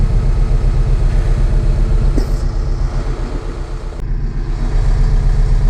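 A TYM T5075 tractor engine idles at about 900 RPM with a steady, loud, low diesel rumble close by and a couple of brief clicks, and no talking.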